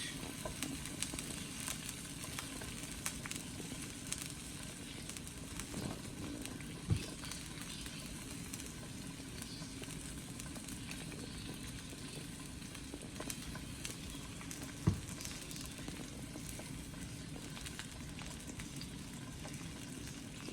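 A salmon fillet sears skin-side down in a hot pan on the stove, giving a steady, soft sizzle and crackle throughout. Two brief clicks stand out above the frying.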